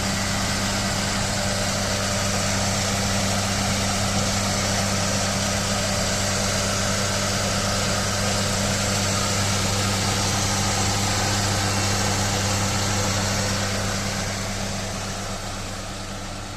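A 2007 Mercedes C180 1.8 engine runs at a steady idle, a loud continuous hum with strong low tones and vibration, fading slightly at the very end.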